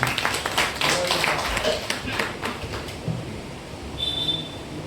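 Audience applause at an all-India mushaira poetry gathering in a village setting, a burst of clapping in the first half that fades out, mixed with talk and room noise.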